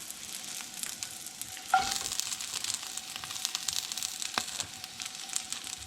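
Garlic sizzling and frying in a pan, a steady crackling hiss throughout with a brief louder pop and stir around two seconds, heard close with no talking.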